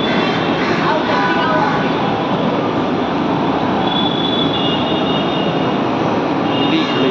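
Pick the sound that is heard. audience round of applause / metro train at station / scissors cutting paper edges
metro train at station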